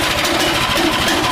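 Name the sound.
hot rod kart engine running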